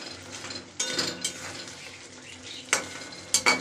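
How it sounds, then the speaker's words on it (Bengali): Cauliflower sautéing with peas and potatoes in a pan: a soft, steady sizzle beneath several sharp scraping stirs of a spoon against the pan, with a quick double scrape near the end. "ফুলকপি সঙ্গে মটরশুঁটি আলু দিয়ে একটু কষিয়ে নেওয়ার পরেই"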